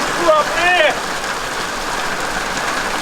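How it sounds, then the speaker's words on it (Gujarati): Heavy rain pours down in a steady, dense wash during a Gujarati village comedy sketch. Voices briefly rise above the downpour early on, then the rain continues alone. "આટલો બધો વરસાદ પડે"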